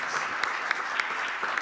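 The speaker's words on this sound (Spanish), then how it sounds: "Dale un fuerte aplauso al Señor." A church congregation gives a loud, sustained burst of applause during an afternoon worship service, with dense, steady clapping that fills the room throughout.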